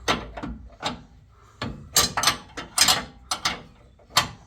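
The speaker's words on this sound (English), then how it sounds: "this last nut, I don't have clearance enough to get my ratchet in there. So gotta use a box end wrench" Metal clicks and short scraping knocks from a box end wrench turning a nut on a Rough Country bed step on a Ford F250, about a dozen sharp, uneven strikes close by with brief pauses between them.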